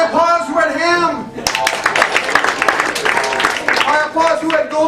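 An audience at a New Year's Eve theatre show breaks into a dense round of clapping that lasts a few seconds, following a man's spoken question, with voices carrying on beneath and after it.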